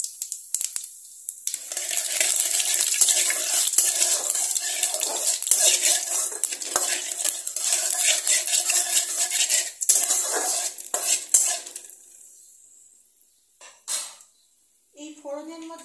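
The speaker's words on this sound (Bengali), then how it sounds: "এলাচ আর দারচিনি ফোড়ন" Whole cardamom and cinnamon crackle and sizzle in hot oil over a low flame while a metal spoon scrapes and clinks against the pan; the frying hiss dies away near the end, leaving a few light clatters.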